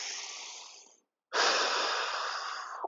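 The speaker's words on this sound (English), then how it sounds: "Be able to breathe through your nose." Two long, forceful breaths through the nose during a spine and shoulder mobility workout, close and loud, separated by a short silent pause.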